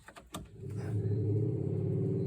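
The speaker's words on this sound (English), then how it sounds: "see if the frickin' blower motor works" A blower motor in a barn-find Camaro under restoration starts up after a few clicks and settles into a steady, low humming whir that continues evenly, moderately loud and close.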